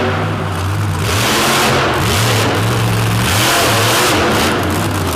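A race car makes a hard takeoff into the first turn, its engine revving loudly and close with repeated rising pitch sweeps as it climbs through the revs, no talk over it.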